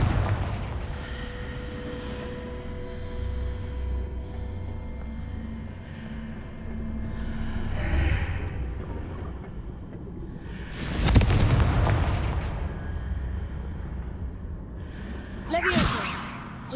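Confringo blasting spells exploding in the video game Hogwarts Legacy, with a rumbling bed of game sound and two sharp booming bursts, the second fainter, over a few moments of voice.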